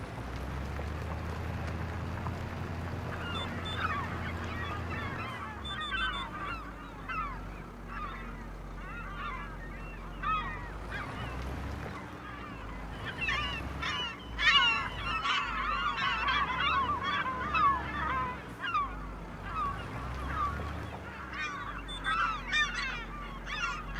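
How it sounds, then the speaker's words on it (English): Birds call repeatedly over a steady low hum, honking cries clustered in several bursts that grow busier toward the end, heard at moderate distance without talk. "the seagulls"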